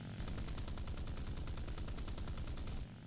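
Rapid, continuous cannon fire from an SB2C aircraft in War Thunder, a loud unbroken burst of evenly spaced shots lasting nearly three seconds before stopping abruptly.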